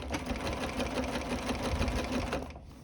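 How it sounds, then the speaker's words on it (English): A sewing machine stitches down the length of fabric bias strips for a rouleau neck trim, a fast continuous mechanical whirr that runs steadily and then cuts off near the end. "I'm now just going to sew down the length of each of my bias strips"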